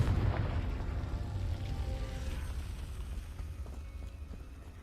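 A Confringo fire-blast spell bursts in Hogwarts Legacy, a heavy rumbling explosion that swells loud at the start and then rolls on as a dense, fading low roar with crackling debris, no voices.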